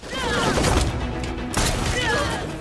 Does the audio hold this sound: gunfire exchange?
yes